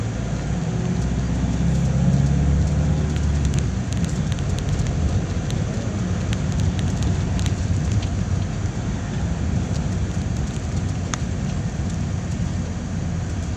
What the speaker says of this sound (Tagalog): Umulan siya, isang baksakan lang, pero ayos lang yan